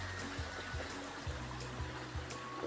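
Steady rushing flow of a river running beside a steep mountain slope, continuous broadband wash with low rumbling pulses, fairly close and even throughout, no voices.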